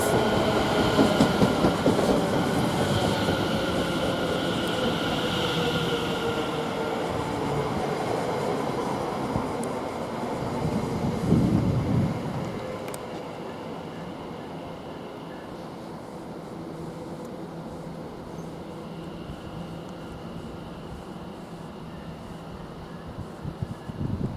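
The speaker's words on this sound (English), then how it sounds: "Now we've got this train now departing" A train rumbles steadily at Shenfield railway station, loud at first with a brief surge midway, then settling into a lower, continuous rolling drone.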